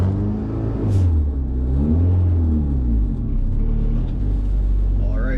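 A rally school car's engine revs up and down in smooth swells, rumbling close by as it accelerates gently on a practice course.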